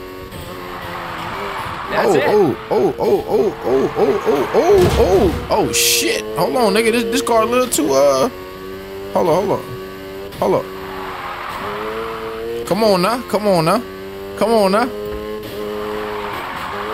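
Car drifting with tires squealing in Need for Speed Heat, revving engine pulses and repeated loud skids through corners, with someone talking over the action.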